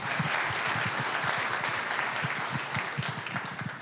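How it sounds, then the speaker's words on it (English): An event audience claps in sustained, dense applause at moderate volume, with individual hand claps standing out against the broad wash throughout. "can we give a round of support to everybody, a round of applause for everybody in support of this?"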